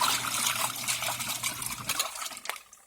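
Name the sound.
twin tub washing machine on its rinse cycle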